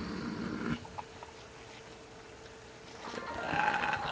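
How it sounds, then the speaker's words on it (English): A goat bleats in the video game Kingdom Hearts: two wavering bleats, one short and one longer, sit close and fairly loud over a low game background, with no talk during them. "Flying goat!"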